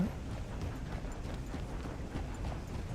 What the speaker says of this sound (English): Come on, horse, come with me.